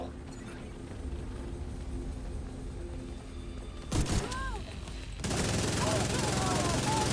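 Rapid automatic gunfire from a favorite weapon in a looter-shooter game with an increased fire rate crit build, a quieter stretch giving way to a dense, loud sustained burst in the second half.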